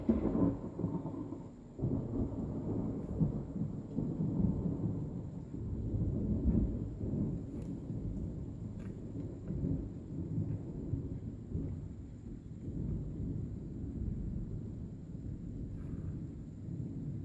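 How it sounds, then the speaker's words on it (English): Thunder rumbles long and low through a storm, a continuous deep roll lasting well over fifteen seconds, swelling and fading with faint rain-like texture above it and no voices. "That was like the longest thunder."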